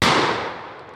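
A single sharp gunshot from a 12 gauge shotgun or .25 auto pistol at a shooting range, loud and close, with a sudden burst and a long decaying tail.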